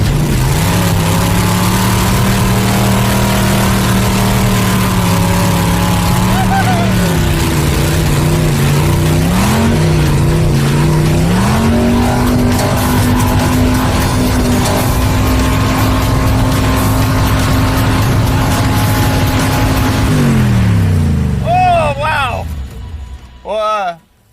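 A 1968 Dodge Charger's engine roars loudly and steadily, with pitch shifts as it revs and pulls away, and the sound cuts off near the end.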